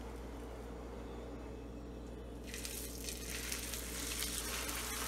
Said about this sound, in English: So we're gonna put our loin into the oil